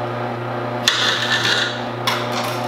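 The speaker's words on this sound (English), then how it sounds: "I'm cutting it in half, and it's just sucking it right in. The gears just sucking it right in there." A Tribest Green Star Pro juicer grinds celery with a steady low motor hum and a dense crunching rasp, close up, with two sharp snaps as pieces are pulled into the gears.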